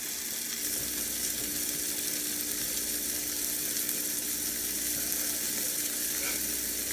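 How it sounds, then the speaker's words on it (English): A sesame-crusted tuna steak sears in a hot pan, giving a constant, fairly quiet crackling sizzle with no pauses throughout. "You want to hear that sizzle, that sear going on."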